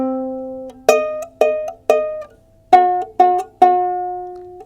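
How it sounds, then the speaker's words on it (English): A single ukulele string plucked six times in a row, first ringing open at a lower pitch, then pressed with a finger to sound noticeably higher, each note clear and close with a gentle decay. "You might have seen when people are playing a ukulele that they put their fingers on the strings."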